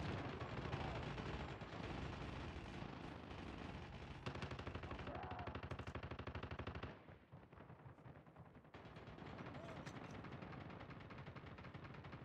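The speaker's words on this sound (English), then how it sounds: "Sentry gun deployed." A sentry gun in the Call of Duty Mobile video game fires in rapid, sustained automatic bursts, loud and close, with a brief pause partway before the chatter of shots resumes.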